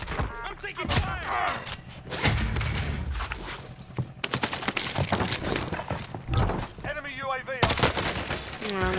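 Rapid automatic gunfire from a Call of Duty match, bursts of dense shots crackling back and forth nearly nonstop, loud and close, with a player talking over parts of it.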